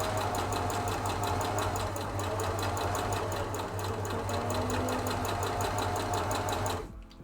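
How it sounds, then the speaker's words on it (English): A sewing machine runs steadily and loudly with a fast, even mechanical rattle and hum, stopping abruptly near the end. "my sewing machine is loud"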